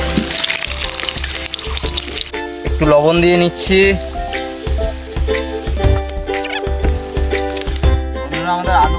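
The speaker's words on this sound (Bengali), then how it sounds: "আলুটা ভাজবো, মাছে যেই আলুটা দেবো আমরা।" Potatoes frying in hot oil in a wok give a continuous sizzle under background music, with a voice speaking briefly over the cooking.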